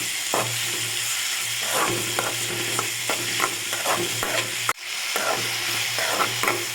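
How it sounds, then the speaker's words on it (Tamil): Tomatoes and green chillies sauté in a pan for an okra and dal pachadi, a steady close sizzle broken by repeated scraping stirs, with one brief pause near the end. "தக்காளி சேர்த்து நல்லா வதக்கிக்கோங்க நம்ம பச்சை மிளகா சேர்த்துக்கலாம் சேர்த்து நல்லா வதக்கிக்கலாம்"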